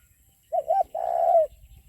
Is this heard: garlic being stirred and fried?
no